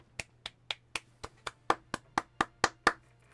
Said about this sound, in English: clap my hand at that